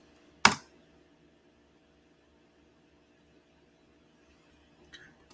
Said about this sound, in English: So I'm gonna click enter on it.